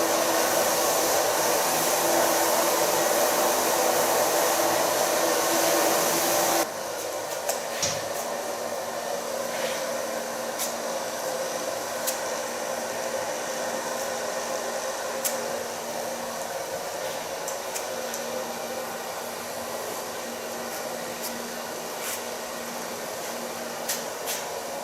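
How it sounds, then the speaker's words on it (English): A handheld hair dryer blows steadily and close up while hair in a bob cut is dried over a large round brush, starting at the nape; the airflow shifts to a lower, softer setting after several seconds and runs on without speech. "Blow dry it with a large brush."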